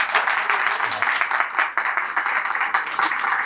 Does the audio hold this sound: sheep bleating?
no